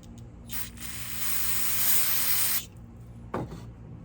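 A close aerosol can of brake parts cleaner sprays onto a Homelite XL chainsaw in a sustained hiss for about two seconds, then a short second burst follows, with light clicking around it.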